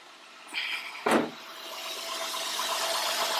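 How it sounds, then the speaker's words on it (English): A 2002 Honda Odyssey cranks briefly with the help of a jump starter's boost and fires up, a short burst followed by a steady engine rumble that builds slightly as it settles into idle. "if it doesn't start, you guys know we need to press this little boost button and it's gonna crank right up"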